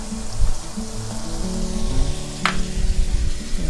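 Garlic pork is stir-fried in a pan with crispy fried garlic and sliced scallions, giving a steady sizzle with scraping stirs and one brief sharp hiss partway through.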